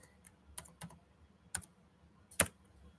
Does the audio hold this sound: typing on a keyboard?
yes